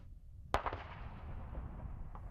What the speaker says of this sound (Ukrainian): Артилерія на цій ділянці фронту не стихає.